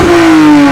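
Lexus IS250 engine revving hard toward its 7,200 RPM limit in neutral, a loud, close, rising mechanical whine held for under a second.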